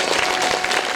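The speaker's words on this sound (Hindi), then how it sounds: "तो एक बार जोरदार ताली बजाएंगे" Dense applause from an audience at a Shrimad Bhagavat katha, many hands clapping together in a loud continuous wash with no gaps.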